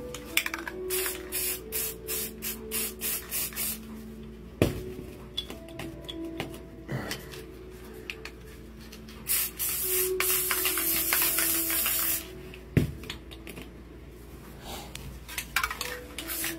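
Spray paint can hissing out pink paint in repeated bursts, with short pauses and light clinks and rattles of cans between sprays, fairly close and loud.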